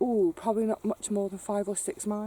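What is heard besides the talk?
None of the usual background noises is heard.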